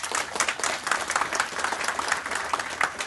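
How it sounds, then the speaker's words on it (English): Dense applause from a large radio theater audience after a big band performance fills the space, steady and sustained with many hands clapping at once. "another round of applause"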